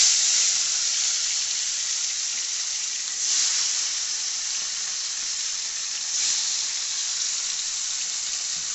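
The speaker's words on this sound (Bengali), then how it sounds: "দেখতে পাচ্ছেন মাছটাকে আমরা নুন হলুদ দিয়ে মাখিয়ে নিচ্ছি, এবারে কড়াতে ভেজে নিচ্ছি।" Rohu fish pieces coated in salt and turmeric fry in hot oil in a kadai, giving a loud, steady sizzle throughout with occasional swells of spatter.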